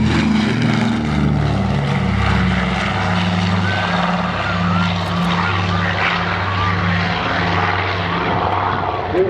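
A PBY Catalina patrol bomber flies overhead at a beach air show, its propeller engines making a loud, sustained drone with a low throbbing hum that holds steady throughout.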